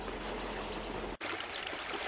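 Polluted outflow from a sewage treatment plant spilling into a small stream in Coucouron, heard as a continuous close rush of running water with one brief dropout.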